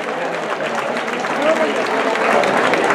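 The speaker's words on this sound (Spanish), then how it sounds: "Un aplauso, por favor" Crowd applauds at a village festival proclamation in Olivares de Júcar during the Fiestas del Santo Niño, a steady wash of clapping that swells slightly midway and continues throughout.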